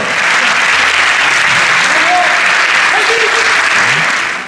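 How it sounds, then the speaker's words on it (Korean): At a taekwondo event, a crowd gives loud, sustained applause to welcome a guest, a thick continuous wash of clapping with faint voices mixed in, holding steady throughout before tapering at the very end. "강명희 대사관님을 박수로 맞아주십시오"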